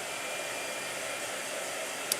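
A blow dryer runs steadily nearby, a constant airy whoosh at moderate volume with a brief click near the end, no talking over it.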